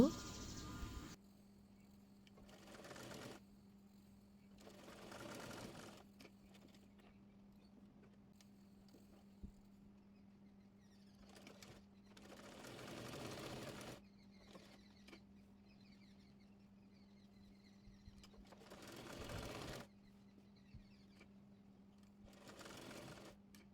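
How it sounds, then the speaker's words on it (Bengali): Domestic sewing machine stitching a neck facing onto baby kaftan fabric, running in several separate bursts of rapid mechanical whirring with quiet pauses between, close and moderately loud. "এবার কাপ্তান কাপড়টির উপরে গলাপট্টের কাপড় টি রেখে সেলাই করে নেব"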